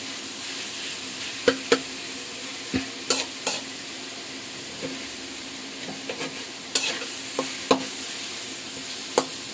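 Carrots and vegetables sizzle in a wok for chicken fried rice, with sharp scraping clacks of a spatula stirring at irregular intervals, close up and with no talking.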